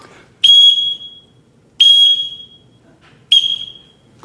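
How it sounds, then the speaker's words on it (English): A loud, piercing whistle signal for calling children sounds three times, each blast sharp at the start and held for about a second, separated by silent gaps. "I won't have to whistle for them"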